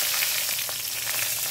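Dry red chillies and nigella seeds crackle in oil left from frying katla fish. A short burst of close, bright sizzling plays alone.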